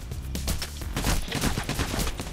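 Dense automatic gunfire from the heist shooter Payday: The Heist, with rapid overlapping bursts of shots that are loud and close and run continuously for the whole stretch, with no voices over them.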